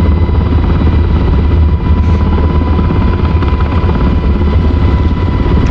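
UH-60L Black Hawk helicopter in the DCS World flight simulator, its rotor and turbine drone loud, steady and close throughout as it approaches to land in a field, with no talk.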